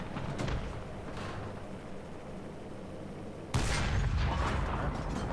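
Gunfire in a War Thunder battle: a steady rumbling wash of distant shots and vehicle noise, then a sharper, louder volley breaks in near the end and keeps going.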